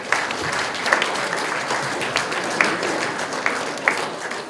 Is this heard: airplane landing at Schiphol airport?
no